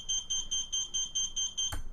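Rapid, high-pitched electronic beeping from a drone flight controller beeper, triggered from a Taranis Q X7 transmitter, repeats in an even pulse about eight times, then ends with a short click.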